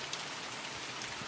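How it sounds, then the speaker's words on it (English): Steady rain falls in a continuous, even hiss in the video game The Mortuary Assistant, with no voices and no distinct drops standing out. "Just gonna leave my car door open in the rain like a normal person."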